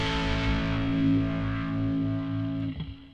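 A guitar runs through an Axe FX 3 drive block with a phasing effect, giving a sustained distorted chord that hums steadily and then is abruptly cut off near the end, with no talking.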